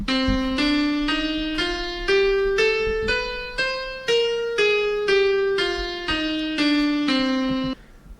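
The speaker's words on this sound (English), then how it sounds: "And the entire C melodic minor scale sounds like this" C melodic minor scale on a piano-like instrument, fifteen evenly spaced notes climbing up and then stepping back down, each struck cleanly and ringing briefly, played alone without any talking.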